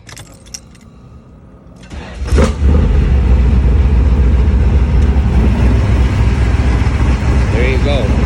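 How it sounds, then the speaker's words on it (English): A Camaro IROC-Z fitted with a GMMG exhaust cranks over and fires at about two seconds, then settles into a steady, loud, close idle rumble that fills the rest of the clip after some quieter jangling beforehand. "somebody wanted to hear what the GMMG exhaust sounds like on the Camaro, so I figured I might as well fire it up"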